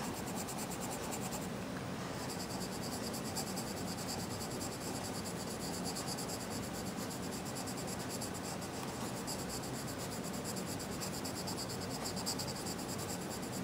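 A coloring pencil scratches on paper in quick, continuous strokes, close and quiet, a dry rasping texture with a brief brighter burst early on and no voices over it.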